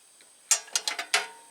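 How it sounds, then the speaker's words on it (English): A lug on a service pole ground connection is loosened with a ratcheting tool, giving a few sharp close clicks in quick irregular succession over near silence. "I loosen the lug."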